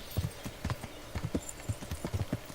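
Horse hooves clip-clop in the medieval video game Kingdom Come: Deliverance, an even trotting rhythm of close, clear hoofbeats with no talking.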